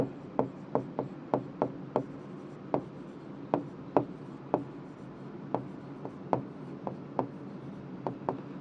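Marker or chalk taps and short strokes on a board while an accounting problem is worked out, a steady run of crisp, close ticks at irregular intervals with no talking.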